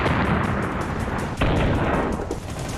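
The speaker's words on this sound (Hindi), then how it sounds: "जहां बमों के धमाके कानों को चीर रहे हैं" Bomb blasts and gunfire in a war zone in Kurdish territory where the all-women YPJ fights, a loud continuous roar of distant explosions with a sharp burst near the middle.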